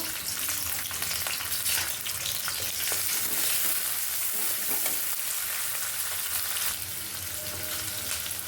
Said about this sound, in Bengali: পেঁয়াজটাকে বেজে নিয়েছি